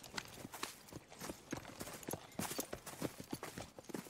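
Horse hooves clip-clop at a steady walking pace on hard ground in the Red Dead Redemption 2 video game, quiet and close, with no other sounds competing.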